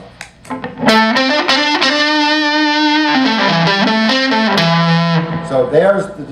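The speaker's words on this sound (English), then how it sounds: "So there's the distortion sound." An electric guitar runs through a distortion effect pedal, playing loud, gritty sustained notes and sliding bends in a close, saturated wash with short gaps between phrases.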